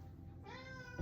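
A cat gives a single drawn-out meow, fairly close and clear, ending as a brief low sound cuts in.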